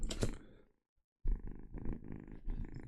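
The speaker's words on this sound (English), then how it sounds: "you can hear her purring." A cat purring close by in a low, steady rumble, broken by a brief pause before the purr resumes in rhythmic pulses.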